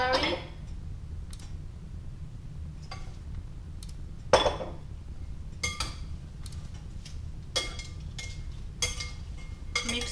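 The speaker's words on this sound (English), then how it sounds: "mix everything together" Glass noodle salad with onion, tomato and celery is tossed in a bowl, giving scattered light clinks and taps of utensils against dishware over a quiet background, with soft speech at times.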